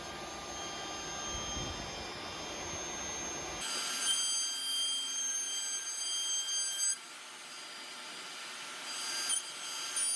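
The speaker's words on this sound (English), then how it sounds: "using a 1/2-inch roundover bit to round over the top edge of all of the boards of the changing table portion" A router with a 1/2-inch roundover bit rounds over the top edges of wooden boards for a changing table, a steady high-pitched whine with a cutting rasp that shifts in tone partway through, moderately loud and heard alone.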